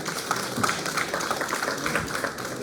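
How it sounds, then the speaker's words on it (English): Applause from a conference audience at a 2024 medical CPD morning session, a steady dense patter of many hands clapping that holds at an even level for the whole stretch, with no voices over it. "a big round of applause for her"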